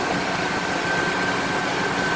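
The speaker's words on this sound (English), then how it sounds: "that is the smoothest fresh engine startup I've ever seen" A freshly rebuilt car engine idles just after its first startup, giving a smooth, steady, continuous hum with a faint high whine. It holds an even level throughout, with no talk.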